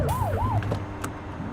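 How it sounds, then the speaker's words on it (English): A police car siren in the video game The Precinct wails in quick rising and falling sweeps for about half a second over an engine drone, then cuts off. "Get on their tail and flip the siren."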